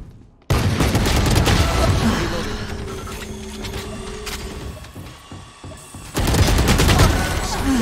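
Loud, rapid gunfire from a gun in the Valorant shooter game: dense bursts of shots that start abruptly, thin out in the middle and then return in a strong final volley.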